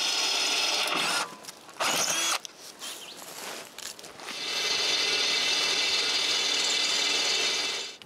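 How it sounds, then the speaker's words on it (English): Power drill boring six holes into a winch during a woodworking build, with bursts of whirring and ratcheting drill noise that stop and start, then a long steady grinding run close up. "We also need to drill 6 holes into the winch."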